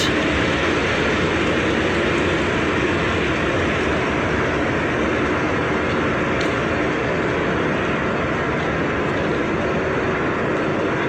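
The Banalata Express passenger train rolls past, making a loud, continuous rumble and roar of wheels and coaches with no clear gaps, no talking.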